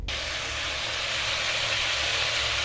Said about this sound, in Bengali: গাজরগুলো ভাজা হয়ে গেছে।